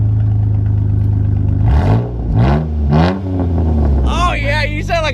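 A straight-piped car engine idles with a low rumble, then revs in three rising and falling bursts followed by a sharper rev, loud and close with people talking nearby.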